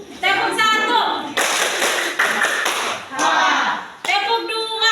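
A class of children claps in a counting clapping game, with short bursts of hand claps alternating with a teacher's voice and children talking between the rounds.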